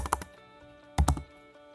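Two short bursts of computer keyboard typing while code is entered during machine learning model work, a quick cluster of three keystrokes, a pause, then another close, fairly loud cluster, with no talking.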